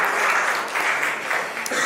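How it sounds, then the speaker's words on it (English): An audience applauds at a startup conference session, a brief steady burst of clapping. "Let's give her a huge round of applause."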